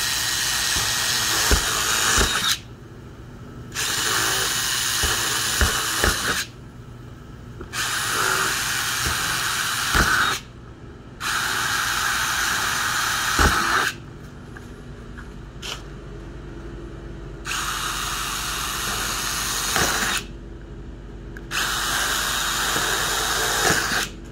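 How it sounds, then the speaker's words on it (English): A power drill whines in repeated bursts of a few seconds each as it drills vinyl gate material for pop rivets, separated by short pauses, loud and close. "Now I'm going to drill them."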